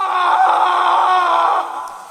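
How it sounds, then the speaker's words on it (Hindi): A man's sustained, strained scream rings out loud and close for about a second and a half before tapering off, used as a sound effect in a Hindi horror audio drama set in a haunted jail. "और फिर अचानक किसी आदमी के चीखने की आवाजें आनी शुरू हो गईं।"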